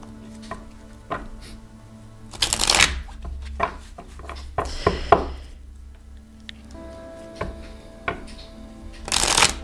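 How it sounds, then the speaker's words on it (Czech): Tarot cards being shuffled by hand in several separate bursts, close and fairly loud, with quieter handling and tapping of the deck between them. "Já si tady budu chvilinku míchat kartičky"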